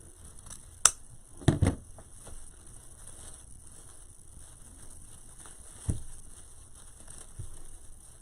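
Scissors cutting blue-green ribbon, a few short sharp snips spaced apart against a faint steady background hiss, close and quiet.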